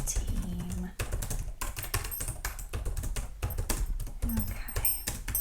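Steady clatter of typing on a computer keyboard at a luxury spa check-in desk, close and crisp, with brief pauses between runs of keystrokes and no talking.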